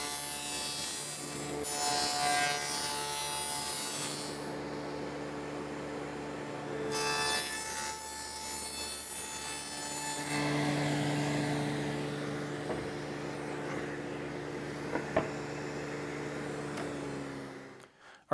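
An angle grinder converted into a sliding cutoff saw makes repeated passes through wood to cut a wide dado, a loud sustained whining motor whose pitch shifts as the blade bites and eases between cuts, with no talking.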